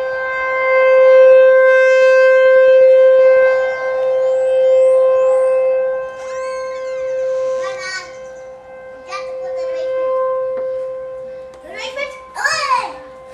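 A civil defense tornado warning siren sounds during a test, its steady wailing tone ringing out fairly close by with strong harmonics. Children's voices and chatter follow as the siren fades.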